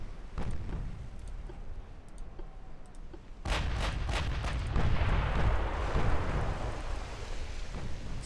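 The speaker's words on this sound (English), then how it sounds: "While we watch shells fire at the Robert H." Battleship main guns firing in the naval game Ultimate Admiral: Dreadnoughts, heavy rumbling booms that rise into a sustained roaring barrage in the second half, loud and close with no talking.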